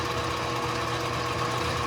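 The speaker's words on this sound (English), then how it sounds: "Just going to touch it with this drill" A power drill spins to take a burr off a hole during work on a ZX6R motorcycle, giving a short, steady, close whirring drone with no speech.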